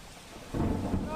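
Heavy monsoon rain pours down on Vadodara city amid waterlogged streets, a soft hiss that suddenly swells into a loud, dense roar of downpour halfway through the short stretch.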